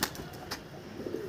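Pigeon cooing, a soft low murmuring coo from a bird that has started perching on ledges and has just laid its first egg, heard fairly close amid faint background noise with a couple of brief higher chirps.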